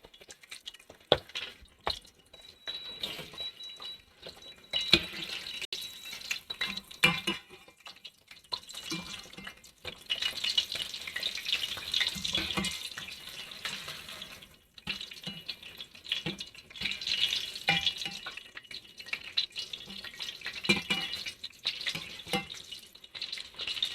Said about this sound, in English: The sizzle shouldn't be too bad because I have a lot of that turned down after the complaints last time.